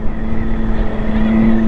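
A KTM 701 motorcycle engine holds a loud, steady single-cylinder drone through its exhaust, close up, with slight throttle swells and no talking.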